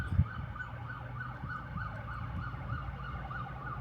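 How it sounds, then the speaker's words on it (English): A distant siren wails up and down in a repeating pattern beneath a low rumble of traffic, faint and steady throughout. "this is probably the port police cars"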